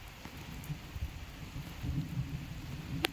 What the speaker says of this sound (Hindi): मुश्किल से बारिश हुई है, मुश्किल से।